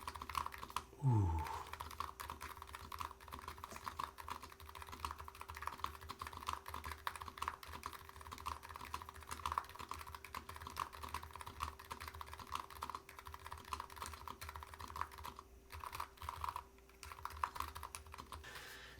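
A steady run of quick keystrokes on an Agar mechanical keyboard during a typing test, crisp and close, continuing without pause and no voices, with a brief low thump near the start.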